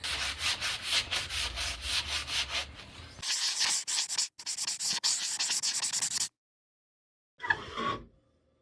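The finish is being sanded off a wooden dresser with steady, rhythmic rubbing strokes, close and clear. A short pause splits the passes, and a brief scrape follows.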